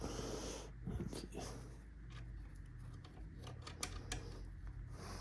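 A dog makes excited wheezing snorts and huffs in the background during snowblower repair, faint and intermittent under soft clicking and handling noises, with no clear talk.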